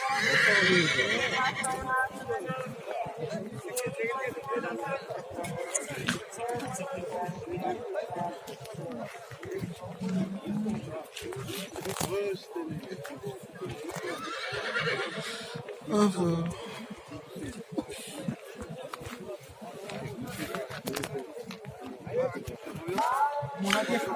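Horses at a crowded livestock bazaar in Kyrgyzstan, with repeated neighing and whinnying and some hoof clatter under steady crowd chatter and nearby talking throughout.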